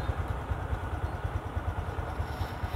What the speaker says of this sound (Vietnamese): Chúng ta nổ máy 5 phút nha các bạn